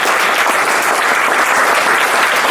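An audience at a French project presentation applauds, a dense even clapping from a roomful of people, loud and sustained throughout with no voices standing out.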